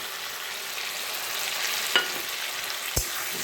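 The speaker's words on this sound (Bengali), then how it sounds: "এইদিকে তো মশলা কষানো হচ্ছে" A ground paste of cashew, poppy seeds and melon seeds fries in a pan for a pointed gourd dish, giving a soft, even sizzle with two sharp spatula knocks near the end, and no speech.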